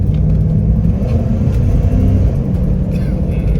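A 1995 Jeep Grand Cherokee Limited ZJ with a 318 V8 engine revs as gas is given, a loud, steady low rumble that swells and holds close by, with no talk.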